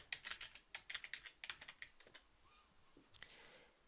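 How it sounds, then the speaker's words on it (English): Quick, irregular keystrokes on a computer keyboard while a user ID and password are typed, a close burst of clicks that thins out into softer, sparse taps. "you enter your user ID and password"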